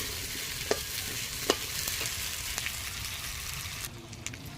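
Raw potato frying with spices in a pan, a soft continuous sizzle with a few sharp utensil clicks and scrapes as it is stirred, quiet and close.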